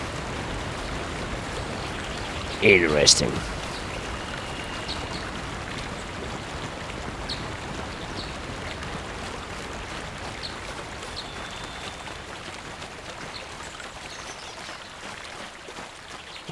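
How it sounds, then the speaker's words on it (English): Steady wash of falling water from a small waterfall in Star Wars: Knights of the Old Republic, a continuous mid-level rush running throughout, briefly interrupted by a louder burst of sound and a short spoken word. "A little waterfall."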